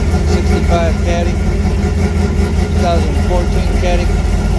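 A 1965 Ford with an FE 390 big-block V8 idles after a cold start, a loud, steady low rumble running throughout with people talking over it.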